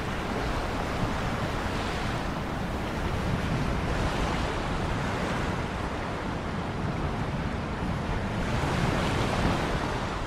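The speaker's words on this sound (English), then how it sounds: "Okay, Sandra, enough of listening to the ocean" Steady ocean surf washing in broad, continuous noise that swells and recedes in slow waves, fairly loud and close with a windy hiss, and no voices.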